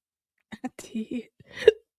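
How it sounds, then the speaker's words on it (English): A sudden hiccup from a woman follows a few quiet, breathy sounds. It is close and brief, with light murmuring around it. "I done got the hiccups, y'all."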